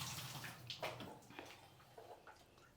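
Chicken rinsed in clean water gives faint splashing and swishing, with small intermittent sloshes close by.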